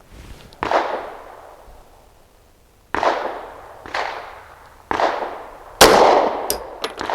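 Sig 365 9mm pistol firing Fiocchi ammunition, five sharp, loud shots at irregular intervals of roughly one second, each followed by a short ringing decay, with no talking.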